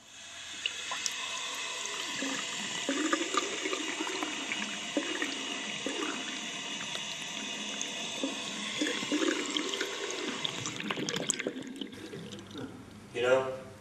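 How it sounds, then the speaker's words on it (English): Water pours steadily from a tap into a basin for several seconds, then gurgles and drains down the plug hole near the end, all in a quiet room without voices. "water running from a tap and eventually running down the plug hole."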